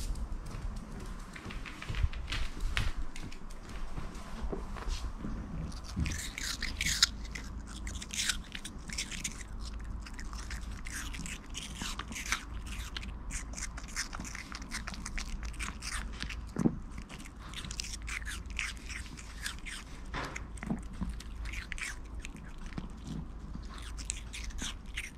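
Eighteen-day-old Maltese puppies eat and chew, making close, soft crunching and wet biting noises in a steady, busy stream with scattered louder bites and no talking.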